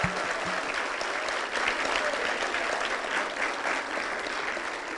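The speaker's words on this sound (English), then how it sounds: "please give them a great round of applause" Audience applause for the panelists at a women-in-science forum on sustainable development, a loud, dense, even clapping that carries on for the whole stretch with no talk over it.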